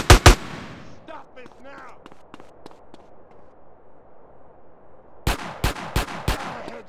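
Sharp, loud gunshots from GTA San Andreas: a quick pair at the start, then a steady spaced run of shots, and a rapid burst of four close shots near the end, with a shouted line between.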